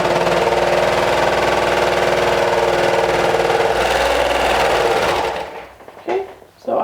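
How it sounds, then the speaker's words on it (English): A sewing machine stitches a fabric waistband into a loop, running in a loud, steady, close whir for about five seconds before slowing and stopping, followed by a few faint handling sounds. "So place right sides together on the short end and sew it in a loop."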